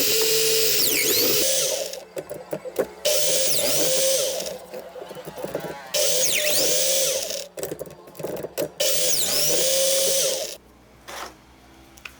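A power drill with a 6mm bit bores dowel holes in wood for a spray-can storage shelf, whining steadily in several separate bursts with short pauses between them.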